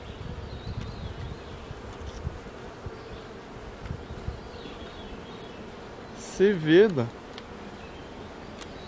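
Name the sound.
honeybees buzzing in the hive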